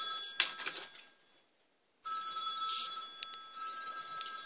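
A telephone rings inside the horror video game Five Nights at Teddy's, two loud electronic ring bursts separated by a short silent pause, with no voices over it.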